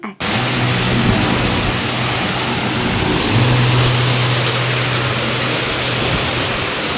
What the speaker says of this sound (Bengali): একেবারে ঝেঁপে বৃষ্টি নামলো।